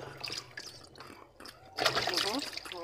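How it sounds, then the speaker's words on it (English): Arrowroot (nduma) tubers are washed by hand in water, with soft trickling and splashing that swells into louder sloshing near the end, close by. "I'm going to wash our nduma"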